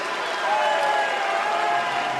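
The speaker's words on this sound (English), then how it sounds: "Every point she wins, cheered to the rafters." An arena crowd at the Paris 2024 Paralympics cheers and claps after a point is won, a dense, sustained roar of applause heard briefly in the distance.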